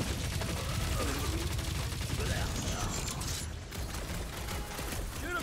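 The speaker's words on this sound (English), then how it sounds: "I got rapid fire." Rapid-fire gunshots in the Guardians of the Galaxy video game, a dense, continuous rattle of quick mechanical bursts with clanking under game sound, loud and close throughout.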